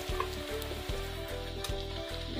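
Spiced potato fries deep-frying in hot oil in a kadhai over a low flame, making a quiet, continuous, bubbling sizzle with no talking.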